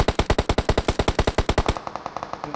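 Rapid automatic gunfire from a weapon in the battle royale game PUBG Mobile, a steady burst of about twenty loud, evenly spaced shots followed by a few fainter, more distant rounds, with no talk over it.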